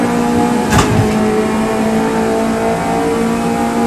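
Race cars roar and rev in a racing video game, a loud continuous engine drone with pitch shifts and a sharp thump early on, close and dominant with no talk.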